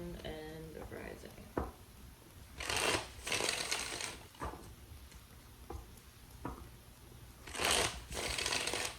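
Tarot cards are shuffled in several quick riffling bursts, some short and some longer, close by and fairly quiet, with soft handling noises between.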